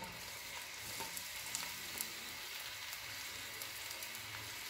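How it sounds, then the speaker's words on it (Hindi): Chopped onions frying in oil for mash daal, with a faint, steady sizzling hiss and soft crackles throughout and no voices. "इस ऑयल के अंदर जो है ये मैं डालूंगी जो प्याज मैंने काट के रखी हुई थी, ये प्याज।"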